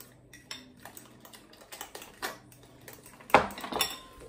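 A utensil scrapes and clinks against a bowl in irregular bursts while eggplant and sausage patty mixture is mixed with mozzarella, with one sharp knock near the end and no talking.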